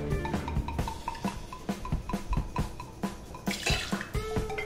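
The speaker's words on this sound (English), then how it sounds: "Next, you're going to add 2 ounces of cognac." Cognac poured into a mixing vessel for a Christmas eggnog, a steady liquid trickle with small splashy pulses running throughout, close and moderately loud with no talk.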